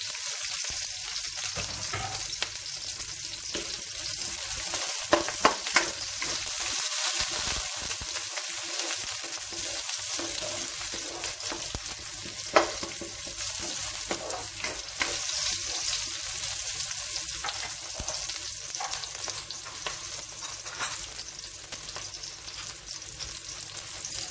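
Onion goes into a pan of frying squid adobo with ginger, and a steady, moderately loud sizzle carries on with occasional soft stirring clinks.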